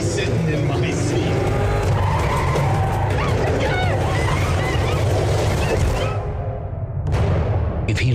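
Engine roar and tire screeching from a car in a Death Proof trailer, loud and busy throughout with music and voices layered in, then a brief drop near the end before the noise surges back.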